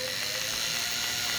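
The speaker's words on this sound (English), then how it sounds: "So here we go, winding a bobbin." A vintage New Home Paragon SKY sewing machine winds a bobbin with a steady, even mechanical whir and faint ratcheting hum, continuous and close throughout.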